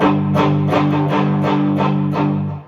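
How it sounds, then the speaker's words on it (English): An electric guitar plays a palm-muted riff, chugging close and loud in quick, evenly spaced pulses over a sustained low drone before fading at the end. "it goes into the palm muted version of the same riff from the beginning"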